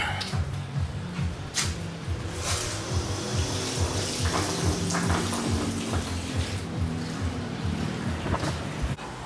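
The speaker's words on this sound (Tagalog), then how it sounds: "Now we just have to fill that with water." Water runs steadily into a backyard kiddie pool, a continuous rushing, splashing flow with a low rumbling undertone, fairly loud and close throughout.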